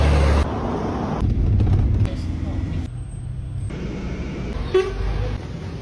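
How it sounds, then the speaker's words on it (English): Busy roadside traffic in Tirana in front of furniture stores: cars rush past close by, with a short horn toot, while a person talks over the street noise. "I'm literally just like on the side of a busy road in front of some furniture stores"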